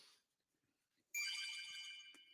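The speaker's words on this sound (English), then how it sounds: "I'm going to put an alarm on my phone right now to go off at 9:30" A phone alarm ringtone starts abruptly after a near-silent pause, a loud bright electronic melody of repeating tones that plays on steadily to the end.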